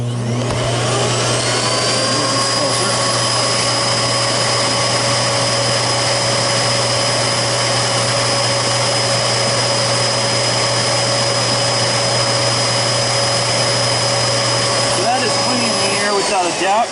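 Miele U1 Cat&Dog upright vacuum cleaner running steadily at close range, a loud continuous motor whine with a high tonal hum held evenly throughout before cutting off near the end.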